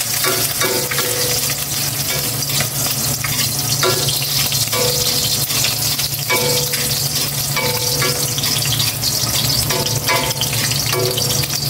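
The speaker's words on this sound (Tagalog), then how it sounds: "Prito naman ako" Food fries loudly and steadily in a hot pan in a home kitchen, with constant sizzling and occasional stirring scrapes throughout, and no voices.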